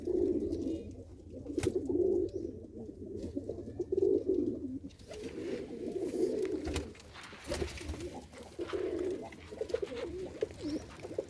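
Pigeons near their loft coo in repeated low rolling phrases, several birds overlapping, moderately close but fairly quiet, with occasional clicks and rustles in between.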